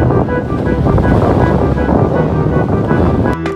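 Waves breaking and wind buffeting the microphone at a beach, a loud, steady roar of surf and gusts that runs throughout with no talking.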